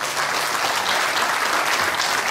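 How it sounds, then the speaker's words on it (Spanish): Studio audience applause on a Canarian music TV programme, loud dense clapping that holds steady and continuous, close and full, with no speech on top. "Vamos a darles un aplauso."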